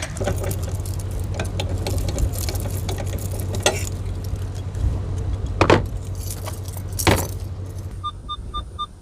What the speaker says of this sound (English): First thing I got to do is take off my Fort Knox lock.